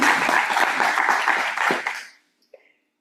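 An audience claps in a loud burst of applause honouring women at an autism and Rett syndrome awareness talk, dense and steady for about two seconds before stopping abruptly, followed by a faint stray sound.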